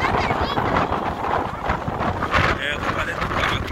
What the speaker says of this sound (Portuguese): A ventania.